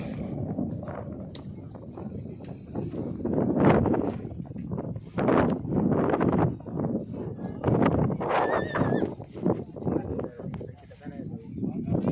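Horses gathered for untrained-horse practice at Vekariya field, with whinnies and hoof clip-clop amid wind noise. Someone talks loudly over them for most of the stretch.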